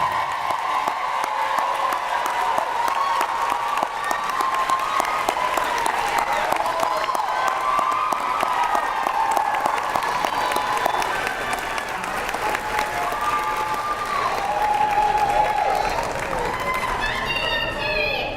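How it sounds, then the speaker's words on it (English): A large crowd at a summer graduation ceremony claps and cheers for the graduates, sustained applause with scattered whoops and voices across the hall that swells slightly toward the end. "Please honor all of our graduates with one more round of applause."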